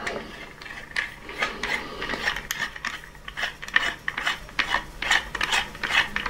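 The pole of a Neewer LED ring light stand is twisted tight, producing a close series of rapid ratcheting clicks and rubbing scrapes in an irregular rhythm.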